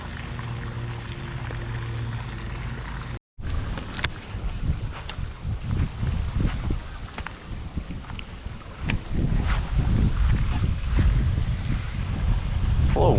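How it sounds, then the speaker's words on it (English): Steady wind buffets the microphone beside a pond during a fishing outing, a continuous low rumble with gusty surges throughout, and a voice talks over it. "It's a little windy today."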